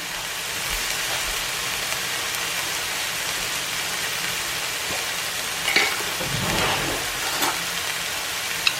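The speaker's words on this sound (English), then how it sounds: "now you want to add in that fresh garlic and your mushroom." Fresh garlic and mushrooms sautéing in a skillet, a steady close sizzle and hiss throughout with a few soft stirring scrapes partway through.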